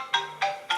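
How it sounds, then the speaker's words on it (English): A telephone ringtone sounds in three short electronic chirps, evenly spaced and fairly loud, with quiet gaps between. "the phone just went"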